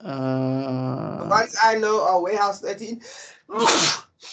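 Someone talks briefly, then one loud, abrupt sneeze bursts out close by near the end.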